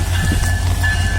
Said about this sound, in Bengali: এই যে একটি ট্রেন চলে আসলো